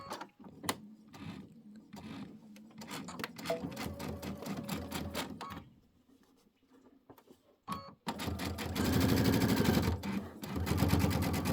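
A sewing machine stitches fabric pieces for a Kimberbell Let It Snow pillow top in several short bursts, then a longer steady run near the end, close and moderately loud, with quiet pauses and rustling between.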